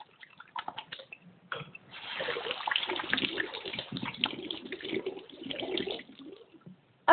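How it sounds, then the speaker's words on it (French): Hot tap water runs steadily into a sink while hands are washed with soap, a broad continuous splashing flow that swells after the first couple of seconds and stays fairly close and even. "allumez de l'eau, chaude de préférence, mettez du savon et frottez vos deux mains ensemble"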